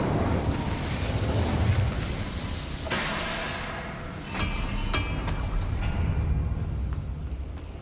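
Incendio fire spell cast in Hogwarts Legacy, a loud roaring fiery whoosh with sharp bursting pops and a few crackling hits, continuous and close.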